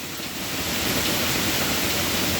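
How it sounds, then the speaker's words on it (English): Steady rainfall at night, a continuous even hiss of drops with no voices. "listening to the rainfall"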